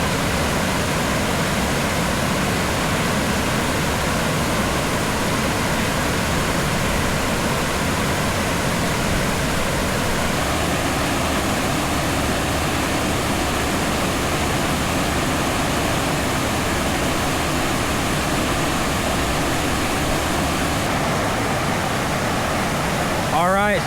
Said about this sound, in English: the upper accessible falls anyway, which is that 18-foot plunge with a deep pool